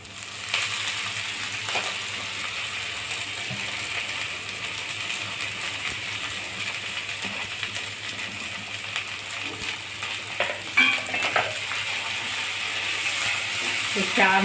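Green chickpea leaves sautéing in a pan with onion, ginger, garlic and dal, a steady close sizzle with light stirring scrapes and a few clinks throughout.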